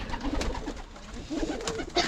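Pigeons coo softly in a loft with an aviary and cages, a few low murmuring calls overlapping close by, fairly quiet, with no talking.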